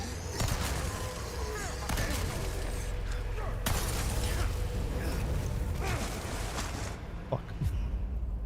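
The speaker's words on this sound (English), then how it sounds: "She's throwing grenades at me." Grenade blasts and gunfire in the Resident Evil 4 Remake video game, loud heavy bursts and shattering impacts in a dense, continuous barrage, with a voice talking partly over the noise.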